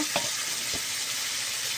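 Ridge gourd frying in a pan, a steady broadband sizzle with a couple of brief stirring scrapes near the start, fairly close and even in level, no voices.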